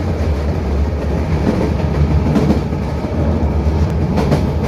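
Steady rumble and rattle from inside a metre gauge train coach on the Bahraich–Nepalganj Road line, with continuous low-frequency running noise and faint clicks from the track throughout.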